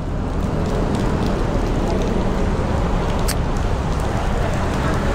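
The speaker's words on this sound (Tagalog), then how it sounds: "It's raining in Manila." Heavy rain pouring in Manila, a dense steady hiss of downpour with scattered drops and splashes, constant and loud throughout with no break.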